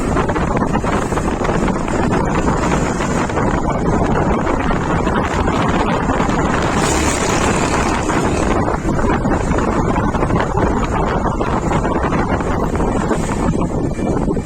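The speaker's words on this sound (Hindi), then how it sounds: "ठंडी ठंडी हवा चल रही है, बिल्कुल चिल्ड, सुबह सुबह का मौसम है, बहुत अच्छी हवा चल रही है" Strong wind roars steadily against the microphone on a morning mountain road trip between Kedarnath and Badrinath in Uttarakhand, a loud continuous rush with no pauses and no speech.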